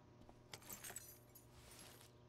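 Keys jangle as they are picked up in the video game Life Is Strange: Before the Storm, a brief metallic rattle of a few clinks in quick succession, up close with no talking.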